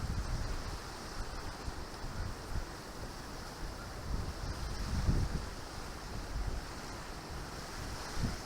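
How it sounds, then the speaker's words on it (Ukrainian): Steady, roaring gusts of strong wind buffet the microphone on a small river bank, mixed with the wash of water and surf, with no one speaking. "Вітрюган дуже здоровий."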